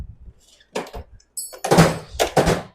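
Workshop drawers are yanked open and shoved shut in a search, giving several sharp sliding thuds and rattling clunks at uneven intervals, close and fairly loud.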